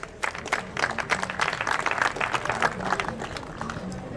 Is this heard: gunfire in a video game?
no